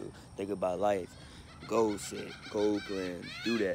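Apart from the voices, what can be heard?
birds calling outdoors in the morning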